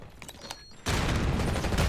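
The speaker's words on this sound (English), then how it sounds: "Concussion grenade out." A concussion grenade detonates in Black Ops 6 during a Hardpoint match, a sudden loud burst that cuts in abruptly and holds a dense, ringing wash of sound to the end after quieter game noise.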